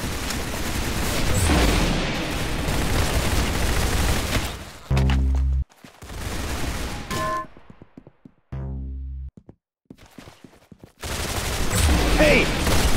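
Rapid bursts of gunfire ring out in the Roblox shooter Arsenal, loud and close, separated by abrupt cuts and short quiet gaps, with a voice shouting over parts of the action.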